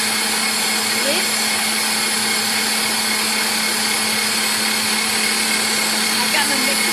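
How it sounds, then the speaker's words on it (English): An electric mixer running on high whips cream in a bowl, giving a steady, loud, unbroken whine throughout with no voices. "I've got my mixer turned on high."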